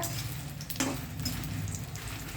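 Ingredients for mint chutney frying in a little oil, a steady close sizzle and crackle running evenly throughout with no voices.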